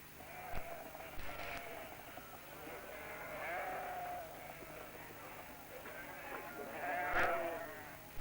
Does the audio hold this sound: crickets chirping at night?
no